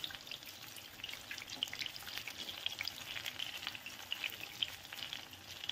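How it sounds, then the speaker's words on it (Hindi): Potato tomato chaap shallow-frying in a pan, a steady crackling sizzle with dense pops throughout, close and moderately loud with no talk. "तो इनको फ्राई करने में आपको 3 से 4 मिनट लगेगा"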